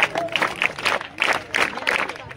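High school students at a speech and singing competition applaud together, a dense burst of rhythmic clapping that fills the whole moment and stays fairly loud throughout.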